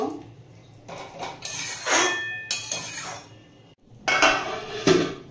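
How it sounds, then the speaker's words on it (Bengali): A metal lid set down on a cooking pot of potatoes and borboti, with loud metallic clanks and scrapes in short bursts and a brief pause before more clattering. "ঢাকা দিয়ে দিলাম"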